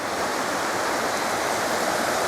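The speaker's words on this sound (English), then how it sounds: "they come together just here and go underneath this bridge and flow off down that way towards the sea" Two rivers meet and rush together under a bridge in the village of Beddgelert, making a steady, dense roar of flowing water that is close and continuous, with no voices.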